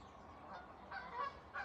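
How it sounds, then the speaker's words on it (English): Geese honk in short, faint bursts a little way off, a few calls overlapping across under two seconds of quiet outdoor background. "All the big geese came to protect Silly."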